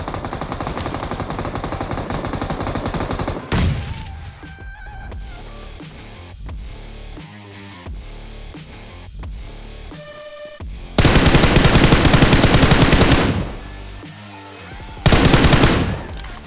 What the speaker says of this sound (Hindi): नीचे से चलती है गोली।